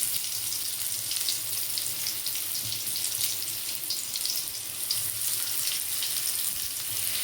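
Ash gourd and poppy-seed curry bubbles and sizzles in a pan on the stove, a steady bright crackling hiss running evenly throughout.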